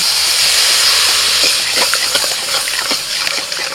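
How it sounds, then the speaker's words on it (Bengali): A small splash of water hits hot spice paste of ginger, green chilli, coriander, turmeric and Kashmiri chilli powder in a pan, setting off a loud, steady steamy hiss and sizzle that gradually settles into softer crackling bubbles. "অল্প করে জল দিচ্ছি"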